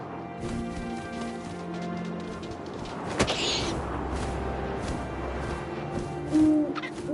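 An owl hoots in the video game What Remains of Edith Finch over a steady bed of wind and ambient noise, a brief hoot standing out midway, with no talking.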